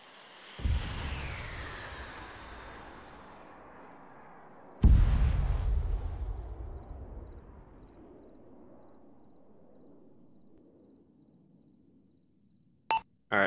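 Two heavy laser-guided bomb blasts in Arma 3 co-op combat, the first a sharp boom at about half a second, the second louder near five seconds with a long rumbling decay, then brief electronic beeps at the end.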